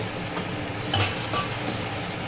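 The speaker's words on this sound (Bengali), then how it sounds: "মাংস সিদ্ধের জল দিয়ে একটু মশলাটা এখন একটু ভালো করে কষিয়ে নেব, একদম ভালো করে মশলাটা কষিয়ে নেব দই দিয়ে" Spices being fried in a pan with yogurt and meat stock for a country chicken curry, a steady soft sizzle with occasional stirring scrapes, close and continuous, with no talking.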